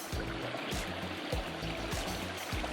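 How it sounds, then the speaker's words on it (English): A small stream trickles and gurgles nearby along a hiking trail, a steady, moderately loud burble with low bubbling pulses and no voices. "Got a little stream"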